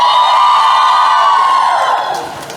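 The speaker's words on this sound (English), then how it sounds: "Let me hear how loud you can cheer for yourselves." A large crowd at a Bollywood event in Borivali cheers loudly, a sustained wall of shrill voices and whoops that swells and then gradually fades out.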